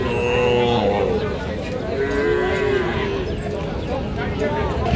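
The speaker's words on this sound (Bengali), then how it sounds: "একটা ষাঁড় বাছুর।" At a busy cattle market, a bull calf and other cattle moo in drawn-out calls amid a crowd of voices talking, with steady market hubbub all around.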